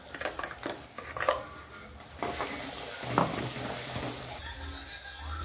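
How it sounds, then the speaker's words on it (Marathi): Spice paste frying in oil in a pan for a spicy dubuk vada curry, with soft sizzling, stirring and occasional clinks of a utensil against the pan, close and steady throughout. "छान असे मसाले फ्राय होत आहेत."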